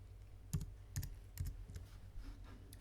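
Several separate bursts of computer keyboard typing, keys clicking in short quick clusters spaced across the clip, close and fairly quiet, no voices.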